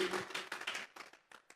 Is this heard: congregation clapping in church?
yes